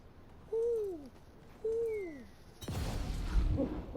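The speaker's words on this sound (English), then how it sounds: "Your character will make owl sounds" A character in Dragon Age: Veilguard makes two clear owl hoots at an owl statue in an old forest, each a falling hoo, followed by a magical shimmering rush of sound.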